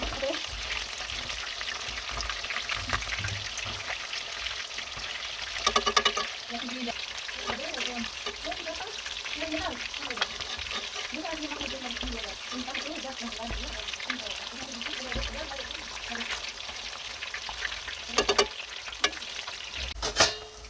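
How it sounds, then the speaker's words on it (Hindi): Fish sizzles in hot oil for a Kashmiri recipe, fried on both sides and stirred now and then, a continuous crackling hiss with occasional scraping and clinks, while someone talks over it. "दोनों तरफ से अच्छी तरह से फ्राई करना है।"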